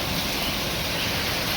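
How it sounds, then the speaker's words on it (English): Heavy rain and strong wind gusts from Hurricane Sally roar as a steady, dense wash of noise that fills the whole clip without a break. "it's just some heavy, heavy wind gusts and a boatload of rain."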